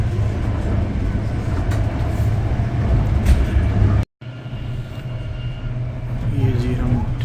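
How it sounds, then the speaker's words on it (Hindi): Steady rumble and rattle from inside a moving passenger train travelling from Warsaw, Poland, loud and continuous with a brief drop-out midway, while people talk over it. "ये ट्रेन में हम सफ़र कर रहे हैं"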